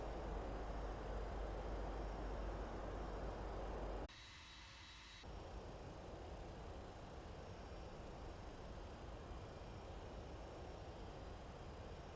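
The engines of a FedEx Boeing 767-300ERF in the X-Plane 11 flight simulator give a steady, powerful roar with a faint whine, briefly cutting to a muffled, quieter tone before resuming at an even level.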